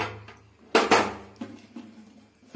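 A metal lid goes onto a pot of leaf-wrapped kozhukattai set to steam, making a quick double clank followed by a few softer knocks and light rattles close by, with no one speaking.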